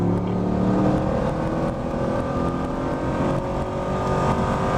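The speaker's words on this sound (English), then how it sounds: "Accelerate out of that corner for me, all the way down the back straight." A Camaro or Corvette accelerates out of a corner and down the back straight at Spring Mountain Motorsport Ranch. The engine drone is steady and loud inside the car and climbs gradually, with no one speaking.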